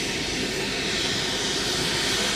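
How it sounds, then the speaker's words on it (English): A crop-dusting airplane drones steadily overhead, a loud, broad engine roar that holds even for the whole moment, with no talking. "Bye bye, airplane."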